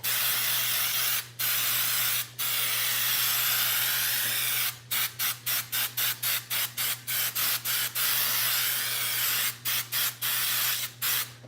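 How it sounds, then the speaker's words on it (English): Cooking spray hisses out in bursts onto a baking pan: two separate sprays, then a long run of short rapid spritzes, then a few more, over a steady low hum. "Spray this good."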